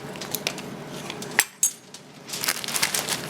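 Sealing paste for spring roll wrappers stirred in a bowl with a utensil, light scraping and clinking against the dish with a couple of sharper taps, close and quiet without talk.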